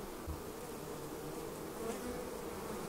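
Steady buzzing of many honey bees, a dense continuous hum close by with no pauses.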